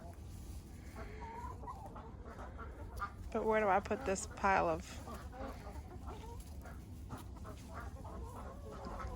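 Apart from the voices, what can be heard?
chickens clucking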